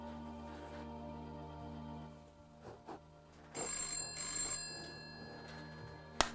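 A telephone rings indoors, a bell-like ringing in two quiet bursts and then a louder shrill burst, with no talk.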